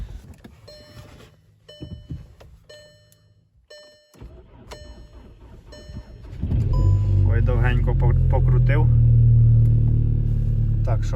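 A VW 2.0 TSI EA888 Gen 3 engine starts in an unheated garage and settles into a loud, steady idle as it warms up, preceded by chimes and clicks from the cabin.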